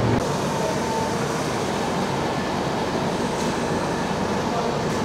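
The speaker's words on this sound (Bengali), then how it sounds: "তিনটে বেজে 10 মিনিট ট্রেন এসে পৌঁছালো ভুবনেশ্বর স্টেশনে।" Puri Duronto Express 22201 pulling into Bhubaneswar station, a steady, loud rolling rumble of rail cars and wheels that continues unbroken throughout, with no clear voices on top.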